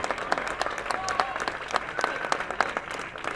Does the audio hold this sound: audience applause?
yes